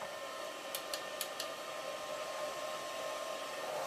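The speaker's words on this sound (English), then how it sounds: "it's got a cooling fan showing power on" The cooling fan of a cheap 120-amp stick welder from Temu gives a steady airy whir with a few faint ticks near the start, running alone and without any talk.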